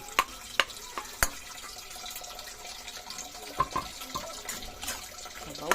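Broth poured into a pan of sautéed mung beans with sardines, a liquid splash and gurgle with scattered sharp clinks of a utensil against the pan, moderately close with no talking.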